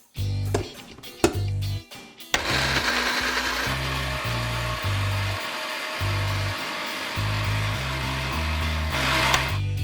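A close-up blender whirs and grinds sauce ingredients, including canned tomatoes, dried tomatoes, honey and red pepper, continuously after a few short starts and knocks, its motor droning loudly with a rough, churning texture.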